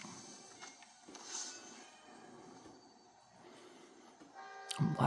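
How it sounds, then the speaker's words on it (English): A train in a video game rolls past with a steady, moderate rumble and clatter, then a brief bright horn-like tone rises near the end. "Try to jump on the back of this train."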